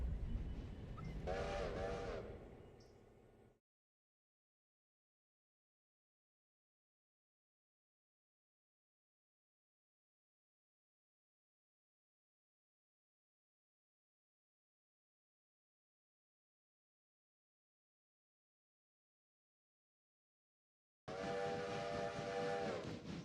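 A passenger train pulls out onto the main line in the video game Railroader, with a train whistle or horn sounding in two short bursts separated by a long silent gap.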